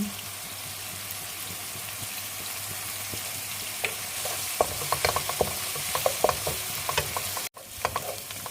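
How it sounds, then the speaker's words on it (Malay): Ingredients sautéing in a pan until golden: a steady sizzle with scattered pops and crackles, occasional stirring scrapes, close by and moderately loud. "Kita goreng dia sampai kekuningan ataupun kita tumis dia sampai dia kekuningan."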